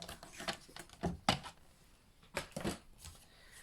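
Paper being cut for a papercraft gift tag box, a series of close, crisp slicing and clicking sounds in uneven bursts with brief quiet gaps between strokes.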